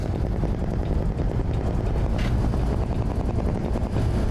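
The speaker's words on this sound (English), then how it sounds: "Hearing cars go by and sound of the engine" A continuous low truck engine rumble in a driving video game drones steadily throughout, loud and even, like a heavy vehicle cruising, with no pauses or voices.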